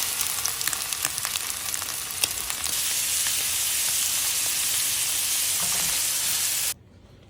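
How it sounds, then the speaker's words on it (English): Scallops and shrimp sear in a hot pan for a chowder, giving a loud, steady sizzle with scattered crackles that builds into a constant hiss before cutting off abruptly near the end. "Giving these scallops a quick sear is certainly not a necessary step, but it will give this a ton of extra flavor."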